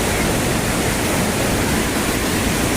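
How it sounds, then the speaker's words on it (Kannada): Bheemeshwara waterfall, a constant broadband roar of falling water, loud and unbroken from start to finish with no voices. "ಈ ಜಲಪಾತ ನಮ್ಮನ್ನು ಮರೆಯುವಂತೆ ಮಾಡುತ್ತದೆ."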